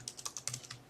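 Quick typing on a computer keyboard, about nine light, close key clicks in an uneven rhythm over one second, faint and with no talking.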